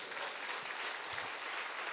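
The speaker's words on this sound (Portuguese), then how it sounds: "Aplaude o teu Deus, aplaude." A church congregation applauding, a soft but continuous wash of many hands clapping together, heard at a distance and steady throughout.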